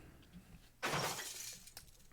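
Glass shatters in a Fate/Stay Night game scene, a single loud bright crash followed by a trailing tinkle of falling shards and a small late clink, with no voices.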